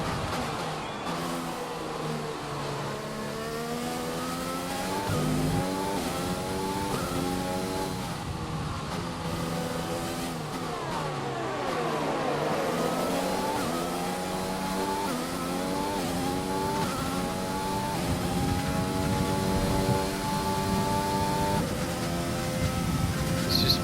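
Race car engine from the F1 2020 video game on the final lap at Holland, loud continuous high revving with repeated upshifts and rising, falling pitch sweeps, no talk.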